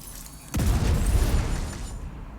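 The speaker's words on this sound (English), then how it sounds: "So double explosion, basically." A double explosion goes off in a video game, a deep booming blast that rumbles for over a second before fading, with no talk over it.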